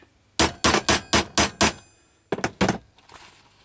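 A hammer strikes a hole punch on a workbench: six sharp, evenly spaced metallic strikes ring out, then a brief pause and three more quick hits, loud and close with a bright clanging edge.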